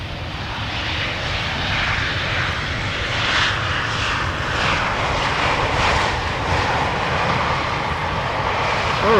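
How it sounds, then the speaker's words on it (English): Norwegian Boeing 737-800 jet airliner at Amsterdam Schiphol, a loud, steady engine roar with broad rushing noise that holds throughout. "This is Norwegian with the Andre Björk livery on the tail. We're returning from Oslo, 737-800."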